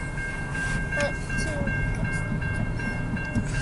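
A CN local freight train passes close by as it slows down, with a loud continuous rumble of rail cars and a thin, steady tonal squeal above it.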